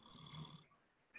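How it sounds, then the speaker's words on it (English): Someone asleep snores during a late-night live stream chat, a single rough, droning inhaled snore with a low rumble that fades out, then a brief noise at the end. "Someone is snoring."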